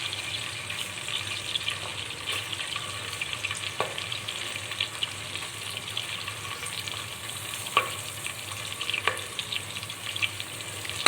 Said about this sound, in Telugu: వేసుకుని వేపుకుంటాం అండి కాసేపు